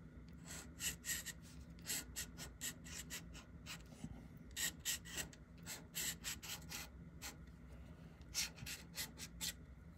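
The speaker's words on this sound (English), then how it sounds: "Drawing in smoke scratchy like this is one of my favorite things." A pencil makes quick scratchy strokes on paper while drawing smoke for a pumpkin-head Halloween queen, coming as close, soft bursts of rasping with short pauses between them in a quiet room.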